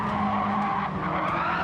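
A race car in Gran Turismo 7 skids after nosing into a wall, its tyres scrubbing in one loud, continuous screech with an engine drone beneath, close and unbroken.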